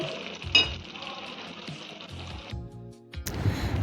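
Spice paste cooking with yogurt over low heat for Afghani-style egg korma, a soft steady sizzle with occasional stirring and a brief clatter, heard close and without talk.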